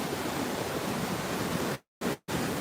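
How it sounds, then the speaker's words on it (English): Ocean waves breaking at a beach, a loud continuous broadband roar of surf that cuts out abruptly twice near the end. "Look at those beautiful waves."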